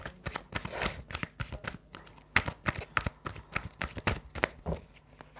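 Tarot cards are shuffled by hand in rapid, close riffling bursts with crisp slaps, continuing rhythmically and alone throughout.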